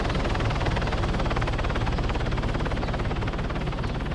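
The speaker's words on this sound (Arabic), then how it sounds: "هليكوبتر يجي على" A helicopter roars close and loud with a steady rapid rotor chop, continuous throughout with no other sounds.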